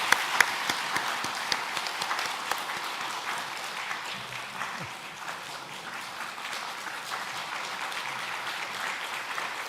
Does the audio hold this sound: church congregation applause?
yes